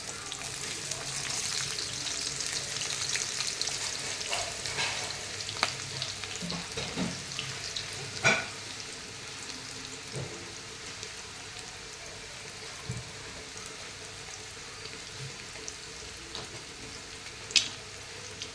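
Onions frying in coconut oil in a pan, a steady soft sizzle and crackle with occasional stirring clinks, moderately close and without talk.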